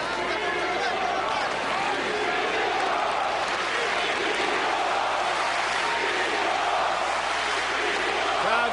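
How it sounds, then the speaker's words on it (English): A large boxing arena crowd chants during a heavyweight bout, a dense, steady roar of many voices that carries on without a break. "Crowd chanting, Klitschko, Klitschko."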